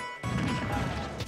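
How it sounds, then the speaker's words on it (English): A forward smash connecting in a Super Smash Bros. Ultimate match between Mii Gunner and ROB, a sharp crash hitting after a brief quiet and then a dense burst of game noise. "Big forward smash."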